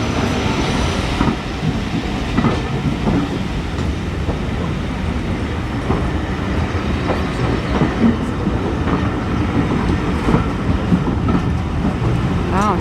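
A long steam train rolls past on a heritage railway near Goathland, its steady rumble and clickety-clack of carriage wheels continuous and fairly loud throughout, with faint background chatter.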